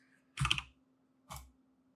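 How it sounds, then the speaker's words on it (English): Two crisp, close keystrokes on a computer keyboard, about a second apart, in an otherwise quiet room. "I'm just typing equals."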